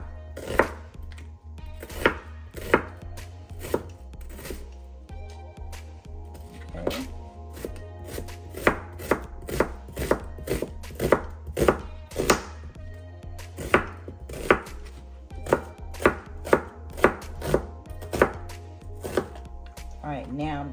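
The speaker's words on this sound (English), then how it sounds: "So I'm gonna slice the onions just like that." Onions sliced with a knife on a cutting board at home, a steady run of sharp, close thunks at a quick, slightly uneven pace over about twenty seconds, with no talk.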